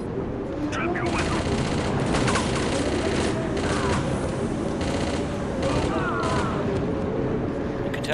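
Dense gunfire from guards and prisoners in the video game Chaser, a continuous loud barrage of rapid shots over a roaring background with voices shouting.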